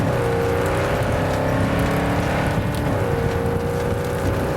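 Car in the video game Cyberpunk 2077 driving off-road, a loud, steady engine drone with a humming tone that rises and dips slightly, carrying on continuously over rough rumbling noise.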